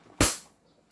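A single sharp, loud shot from an airsoft pistol, a Hi-Capa or Umarex Glock 17, cracks out near the start and then decays quickly into a quiet room.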